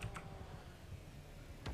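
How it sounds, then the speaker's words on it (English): Typing on a computer keyboard during a Rocket League session: a short, faint run of soft key clicks, close by, with no talking. "sorry for the typing"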